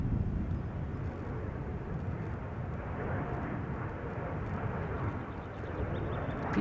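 A KLM Boeing 787-10 Dreamliner at Schiphol's Polderbaan, bound for Kilimanjaro, gives off a steady, low jet-engine rumble that stays even and moderately loud throughout.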